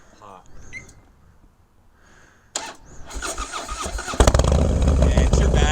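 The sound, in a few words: Harley-Davidson Screaming Eagle CVO Dyna 110 engine starting hot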